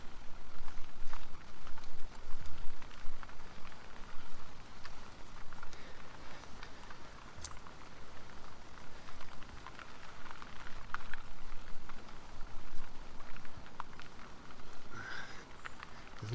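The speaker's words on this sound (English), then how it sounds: "It's not raining too heavy at the moment" Light rain patters steadily outdoors, a soft hiss of drops with scattered louder taps and small knocks, continuous and unvoiced.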